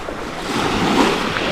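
Sea water at Whitstable beach swirling around legs while paddling in, a steady rushing wash of shallow surf with wind noise on the microphone, continuous and close.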